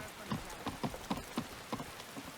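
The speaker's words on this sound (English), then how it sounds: "let's see if we can find some cover for the rain" Rain patters steadily in Skyrim, with a series of soft, irregular thuds like heavy drops or footsteps on wet ground, faint and even, with no talk over it.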